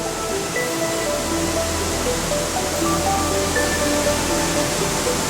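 Öxarárfoss waterfall at Thingvellir in Iceland roars as a steady, broad wash of falling water, constant and fairly loud throughout with no voices.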